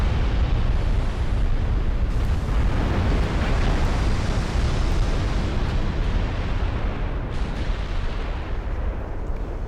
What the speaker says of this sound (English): So many shells going everywhere from the American fleet